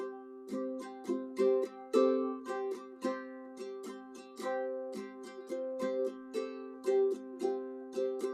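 Ukulele strummed repeatedly on one chord, a finger lifted off a string and set back down so the voicing shifts back and forth; steady rhythmic strums, close and clear, no talking.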